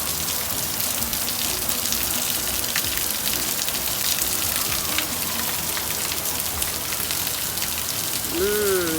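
Heavy rain pours steadily, a dense continuous hiss of drops striking surfaces, with a faint voice briefly near the end.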